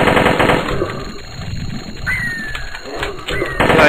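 Automatic rifle fire from an AK in a video game, bursts of rapid shots running through the clip amid game sound effects and a rising whistle-like tone, with a voice talking over parts of it.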